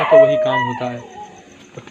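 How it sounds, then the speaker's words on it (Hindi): A dog howls and barks nearby, with a long wavering howl early on that fades out. Someone speaks over it. "कुत्ता भौंक रहा है"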